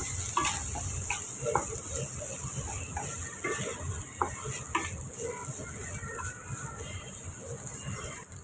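Cooked rice is stirred together with fried onions and tomatoes in a pan, producing a continuous soft scraping and faint sizzle with light spoon taps, close and moderate in level.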